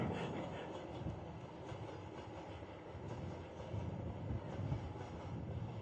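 Delhi Metro train rolling past at a distance, a faint low rumble with soft rhythmic clatter that swells gently without ever growing loud.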